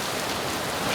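Heavy rainstorm, a loud, dense hiss of rain pouring down steadily and close by for the whole moment.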